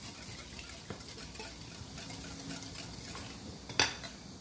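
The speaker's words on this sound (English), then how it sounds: "So I'm just keep on" A whisk beats wet blueberry muffin batter, vanilla extract included, in a bowl with quiet steady scraping and light clinks. One sharper tap of metal against the bowl comes near the end, up close and alone.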